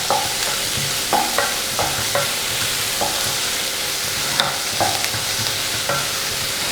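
Close, steady frying hiss of green chilies in oil for tomato rice, broken by repeated spoon scrapes and taps against the pan as the mixture is stirred, no voices.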